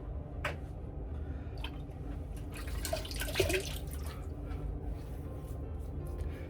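Shaving soap lather being rinsed off with water during a wet shave, with close splashing, dripping and squishing sounds that swell briefly in the middle before settling.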